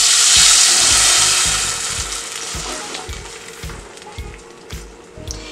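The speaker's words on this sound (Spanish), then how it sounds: "un poquito de aceite para freír nuestra salsa" Salsa frying in hot oil gives a loud burst of sizzling that settles into a softer, steady crackle, with light stirring knocks and small pops near the end.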